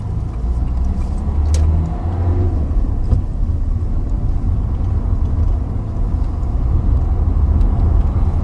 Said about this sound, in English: So we're driving down this stretch of road.